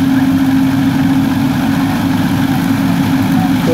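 A Sonalika DI 750 tractor engine idles close by, a steady loud low chugging drone with a constant hum and no voices.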